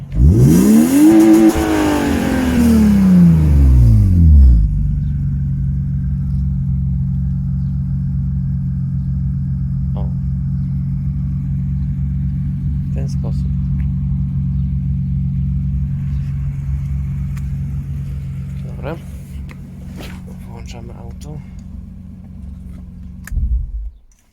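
A BMW E36 330i petrol engine is revved hard for a few seconds with rising and falling sweeps, then drops to a steady, rumbling idle that runs on alone with a few small clicks.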